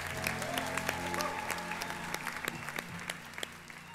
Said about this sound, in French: On les applaudit plus fort que ça.